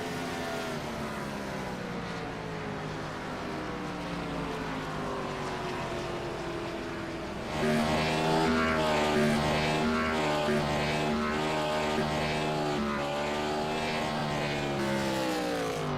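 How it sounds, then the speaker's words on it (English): A race car doing a burnout on the front stretch at Darlington, a sustained high-revving engine wail with a harmonic drone that rises and gets louder halfway through, heard from a distance without any talk. "Incredible burnout here on the front stretch"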